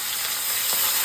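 Rohu fish from a pond sizzles in hot oil in a pan, a steady, close, hissing crackle with no voices.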